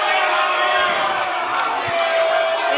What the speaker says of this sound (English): The crowd's booing.